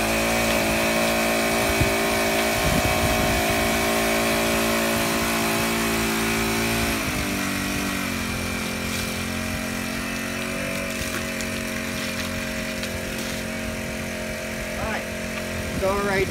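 Engine held at reduced throttle on a beach, a steady mid-level drone with constant harmonic tones that shifts slightly lower partway through and then stays even, running continuously close by.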